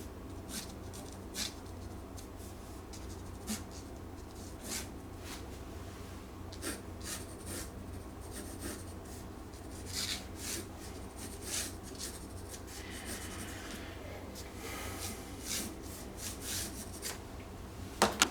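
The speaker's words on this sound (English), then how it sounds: "I just make the very simple sketch to measure my space." Pencil sketching a simple layout on a quarter-imperial sheet of Arches watercolor paper: soft, irregular scratchy strokes come in short bursts over a steady low background hum, close and quiet with no talking.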